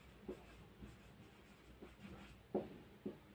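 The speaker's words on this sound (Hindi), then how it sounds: "तो आप यहाँ पे लिख सकते हैं" Chalk or marker strokes on a board during a Hindi-language chemistry lecture, a few short scratchy taps and scrapes at uneven intervals, quiet and close in a faint room hum.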